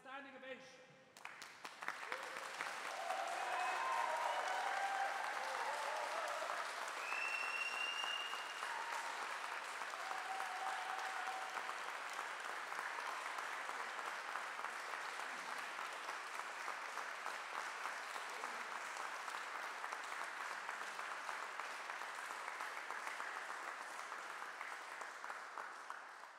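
A church full of mourners at a celebration of life gives a standing ovation, sustained broad applause lasting over twenty seconds with some voices mixed in, fairly distant and even.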